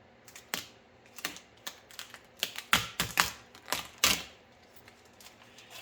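Taillight tint film on a Tesla Model 3 being trimmed, giving a series of sharp, close clicking snips and cuts in an irregular rhythm, loudest in the middle, with no talking.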